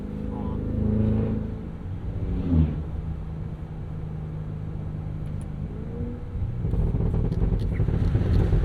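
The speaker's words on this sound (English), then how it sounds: "Don't get a whole lot of supercharger whine in this." 2026 Cadillac Escalade V with a 682 hp supercharged V8 on a road trip, its deep exhaust rumbling steadily under acceleration with little supercharger whine, swelling louder near the end while people talk inside the cabin.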